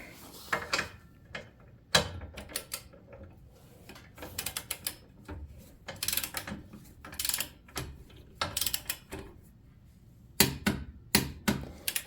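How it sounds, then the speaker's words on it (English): Torque wrench tightening a rear shock bolt on a 2013 Chevy Equinox, with irregular close ratcheting clicks and metallic clatter in scattered bursts over a quiet background. "we're going to torque that guy to the proper torque specification"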